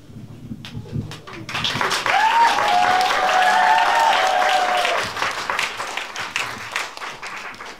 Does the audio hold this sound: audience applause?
yes